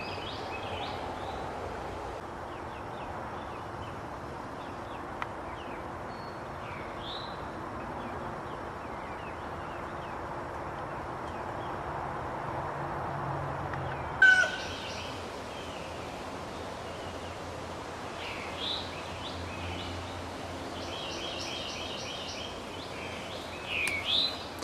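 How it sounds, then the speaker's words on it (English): Faint bird chirps and calls scattered over a steady outdoor hush in a garden, with a few soft rustles. "You hear all those birds?"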